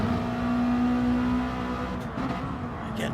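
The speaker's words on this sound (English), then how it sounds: "Old school Subaru Impreza." An old-school Subaru Impreza with a boxer engine at a boy racer night, a loud, steady engine drone with a sustained pitched tone that fades slightly as it moves off, no voices.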